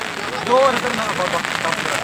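Heavy rain pours steadily at an outdoor langar in a village, a constant close hiss of water with a voice briefly heard over it.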